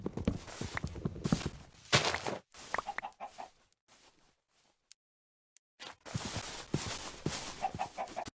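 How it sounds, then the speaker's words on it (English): Chicken mob in Minecraft, a series of short clucks and fluttery chicken sounds mixed with footsteps, fairly close, dropping to near silence for a couple of seconds midway before resuming. "I also found the new chicken mob to be pretty cool."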